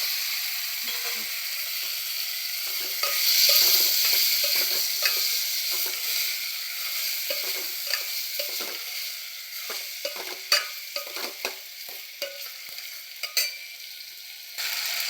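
Cooked bottle gourd pieces for a kurma sizzling in a pan, with a steady close hiss and repeated spoon scrapes and stirring clicks that grow more frequent toward the end.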